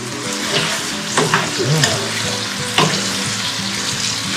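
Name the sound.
refrying food in a little cooking oil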